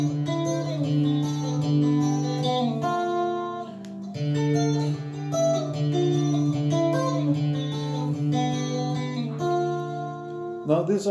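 Guitar playing the intro to a song with hybrid picking, ringing chords and plucked notes in a steady phrase, clear and up close.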